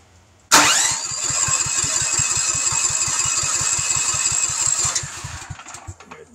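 A fuel-valve-equipped generator engine cranks and catches abruptly, then runs with a steady rapid thumping idle for several seconds before shutting down and fading out, loud and close with no talk.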